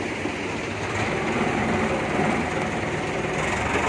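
A loud, steady engine drone with broad rumbling noise from a long-tail boat motor running at speed near Bangkok, continuous throughout and close by.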